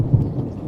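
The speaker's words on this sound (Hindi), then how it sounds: "ये देखो कितनी तेज बारिश हो रही है" Heavy rain with a low rumble of thunder, a brief loud burst of downpour and deep rolling noise with no voices.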